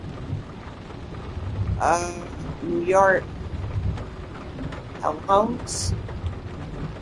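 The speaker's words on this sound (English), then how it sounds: "It's still raining." Steady rain with low thunder rumbles in the video game Nobody Wants To Die, running under intermittent speech throughout.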